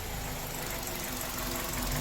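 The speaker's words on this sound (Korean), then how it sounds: "자, 시동이 걸렸고요." Steady, fairly loud hum of a car engine idling just after starting, continuous with no voices, from a car with a stalling fault being checked after a connector pin repair.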